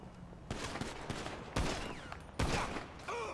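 Bursts of automatic gunfire in GTA Online, several loud volleys rattling in quick succession with sharp onsets near the start, middle and end.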